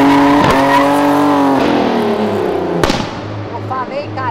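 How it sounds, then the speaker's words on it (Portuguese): Car squealing its tires in a skid, loud and close, with sweeping tonal squeals that slide in pitch over several seconds and a sharp crack near the end, faint squeaks trailing after. "Ele acho que ouviu a derrapada"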